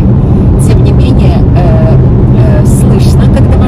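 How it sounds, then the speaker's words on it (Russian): Steady low rumble of tires rolling on a Norwegian road, heard from inside a moving Polestar electric car, continuous and droning without a running engine. "слышно, когда машина идет, не работает мотор, но, по-моему, это шум колес"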